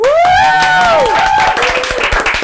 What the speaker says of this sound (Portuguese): Palmas pra todos, gente.